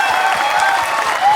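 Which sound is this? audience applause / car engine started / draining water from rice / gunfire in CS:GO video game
audience applause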